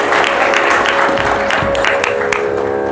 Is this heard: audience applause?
yes